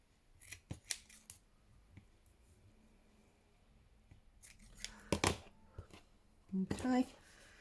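Scissors snip through excess lace for a junk journal, scattered close cuts and rustling handling that grow denser toward the end, with a person talking softly in between.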